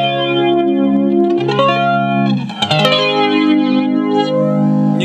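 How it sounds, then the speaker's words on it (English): Electric guitar through the flanger effect of a Roland Micro Cube amplifier, sustained chords swept by a whooshing, jet-like moving comb filter, loud and close, with a brief break in the middle before the ringing chord returns. "Go to a flanger."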